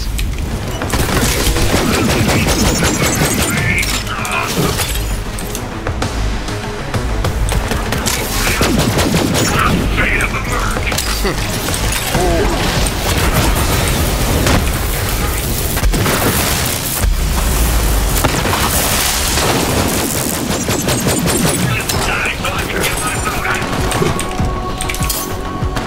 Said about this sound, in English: Get those turrets firing!